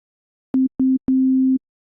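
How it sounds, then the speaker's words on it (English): Pure sine tone from the Serum synthesizer, a clean steady low note played as three separate bursts, two short and one longer, clear and isolated against silence. "I'll start with a sine wave by selecting the basic shapes wavetable."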